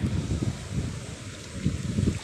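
Strong wind buffets the microphone in heavy gusting rumbles that rise and fall, with a faint wash like water in the background.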